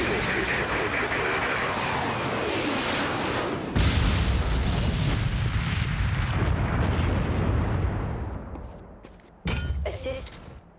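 Airstrike explosions in a first-person shooter video game roll out as a long, loud, dense stream of booming blasts. A sharp cutoff comes near the end, then a brief return.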